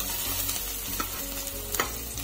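Onion frying with cumin in a pan, a dense close sizzle with a low hum underneath and a few distinct scrapes of a stirring spoon.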